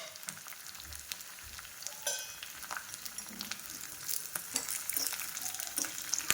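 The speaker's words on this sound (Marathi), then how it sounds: "छानपैकी कडकडीत आपल्याला हा तडका तयार करून घ्यायचा आहे" Faint tadka frying in a pan with curry leaves, green chillies and urad dal, soft sizzling and crackling with occasional stirring taps, no voices.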